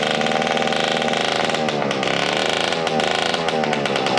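Tuned 50cc-class scooter engine fitted with a larger carburetor and aftermarket exhaust, buzzing loud and close with a raspy, uneven two-stroke rev that wavers up and down throughout.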